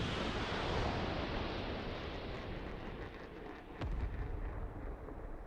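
Main battle tank cannon firing in the DCS World combat simulator, a loud broadband boom and rushing roar with a brief sharp crack partway through, followed by a sustained rumbling wash.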